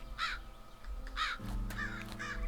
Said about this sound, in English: look at these crows eating on these carrots, wheat, potatoes, potatoes and mustard